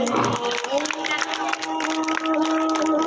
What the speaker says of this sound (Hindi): तो जोरदार तालियों से उनका भी स्वागत करेंगे